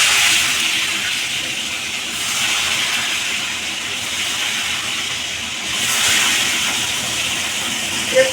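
Pieces of rohu fish frying in hot oil in a wok, a loud, close, continuous hissing sizzle that swells twice and holds steady throughout, with no voices over it.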